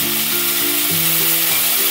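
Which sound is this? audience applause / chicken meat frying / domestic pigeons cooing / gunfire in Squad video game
chicken meat frying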